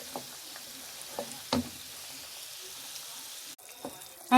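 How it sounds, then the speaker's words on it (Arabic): Dough frying in cold oil that was earlier used for frying almonds and peanuts gives a faint, steady sizzle, dotted with a few soft pops and clicks. "ملي كديري في الزيت البارده صافي كيتحمر على خاطرو"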